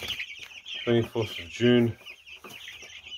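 Backyard chickens from a second batch cluck in short, close bursts, a few loud clucks standing out over quieter murmuring, while someone speaks briefly alongside.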